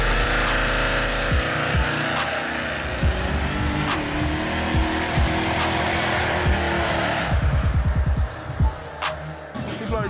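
Donk-style car with a carburetor engine roaring hard on a drag racing pass, a sustained loud engine drone with tire noise and sharp bursts near the end.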